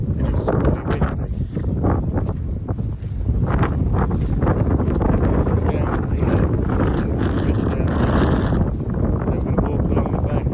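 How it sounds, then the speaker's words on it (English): Strong gusty wind sweeps across an open grass field near a flooded beck, buffeting the microphone with a constant heavy roar that surges and dips throughout. "And it's really windy."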